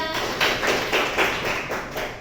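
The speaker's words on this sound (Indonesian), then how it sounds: "tepuk tangan untuk kelompok 3" Classroom group clapping in a microteaching lesson, a short burst of close, rhythmic claps at a steady beat lasting about two seconds.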